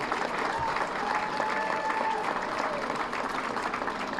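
A crowd applauds steadily for a man's son Jack being introduced at an election night event, dense and sustained clapping with faint cheering throughout.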